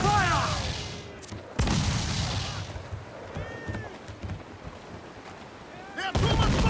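Ship cannons in Assassin's Creed IV Black Flag fire three heavy booms, the first two close together and the last near the end, over wind and sea noise with voices shouting.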